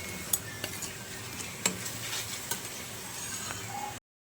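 Masala spices roast in oil in a kadhai with a soft, continuous sizzle. A spoon scrapes and clinks against the pan several times, heard close and fairly loud before the sound cuts off abruptly.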